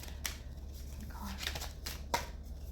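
Soft riffling and slapping of tarot cards being shuffled nearby, a few quick bursts over a low steady hum, with no talking.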